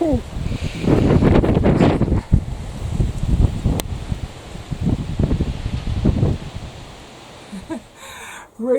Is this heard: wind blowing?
yes